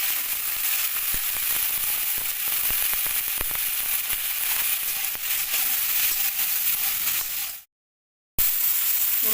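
Cauliflower florets seasoned with turmeric and salt fry in hot oil with a steady, close crackling sizzle. It cuts to silence for a moment near the end, then the sizzle returns.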